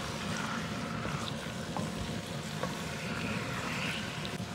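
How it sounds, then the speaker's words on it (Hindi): Chicken pieces frying with salt in a kadai over a high, roaring flame, giving a steady, loud broadband sizzle and rush with a few small pops, and no voices. "जैसे वो होटलों पे आग जल रही होती है ना तेज फ्लेम के साथ, वैसे ही जल रही है"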